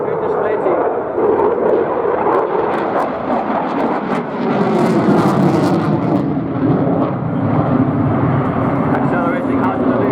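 A Eurofighter Typhoon in Blackjack special livery flying a display at the Royal International Air Tattoo, its jet roar loud and sustained as it accelerates out of a loop, under a commentator's voice.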